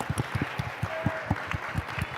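An audience at a startup conference panel claps in a steady rhythm, a brief burst of applause echoing in a hall.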